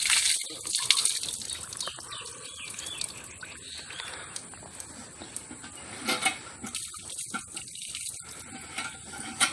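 Water gushing steadily from a farm tubewell in the fields, a continuous broadband splashing rush heard up close with no talk, its flow surging and dipping slightly throughout.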